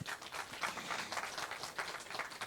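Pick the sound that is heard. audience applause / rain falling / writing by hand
audience applause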